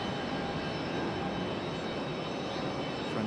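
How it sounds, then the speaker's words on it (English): Frontier Airlines plane Crockett pushes back at Raleigh-Durham airport, a steady, even engine hum and hiss holding at moderate distance with no talk. "Looks like we got Crockett pushing back, the Raccoon."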